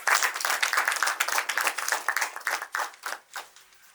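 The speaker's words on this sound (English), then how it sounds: "Let's give them a round of applause, please." A small audience claps to welcome two speakers, a close, moderately sized round of applause that thins out into a few scattered claps toward the end.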